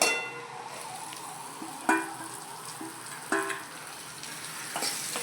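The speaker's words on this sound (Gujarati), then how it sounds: "પછી તેને હલાવી દેવાનું એટલે લસણિયું બળી જાય નહીં આપણું" Spiny gourd (kantola) frying with garlic in a pan, a continuous sizzle broken by several sharp spatula scrapes and knocks against the pan, close and without talk.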